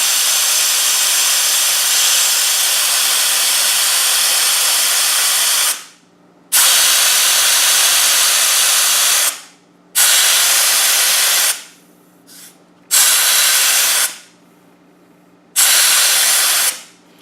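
Air hisses loudly out of a stock tire through an ARB Rapid Air Deflater, a steady close rushing blast that cuts off and restarts several times in long bursts.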